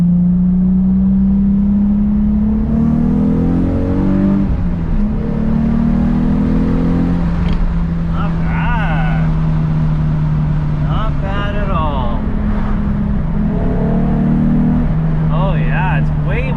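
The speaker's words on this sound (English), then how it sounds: "this is gonna be second gear pull" Nissan 350Z fitted with a Kinetix Velocity intake manifold accelerating hard in second gear, a loud engine drone climbing in pitch, easing and climbing again as revs build.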